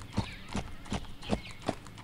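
Horse hooves clip-clopping in a steady, evenly spaced rhythm in a horse-riding video game, four or five distinct footfalls close up at moderate volume, with no talk over them.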